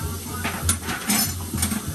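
Metal clatters and scrapes as pasta is put in a metal pan, a few clinks and knocks close by, with a low sizzling hum underneath.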